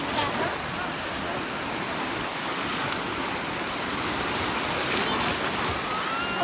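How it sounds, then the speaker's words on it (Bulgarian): Sea waves wash onto a beach at Obzor in a continuous broadband roar of surf, steady and fairly loud, with no talk and one brief sharp knock midway. "Покажи вълните."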